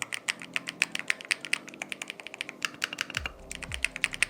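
Rapid clacky keystrokes from a mechanical keyboard, crisp and close, typed in quick irregular bursts with a couple of heavier thumps near the end.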